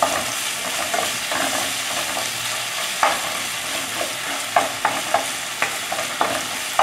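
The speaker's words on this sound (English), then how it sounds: "Give them a quick stir." Aromatics such as roasted tangerine peel and chili sautéing in a hot pan for orange chicken, a constant sizzle broken by sharp scraping clacks of a utensil stirring, growing more frequent toward the end.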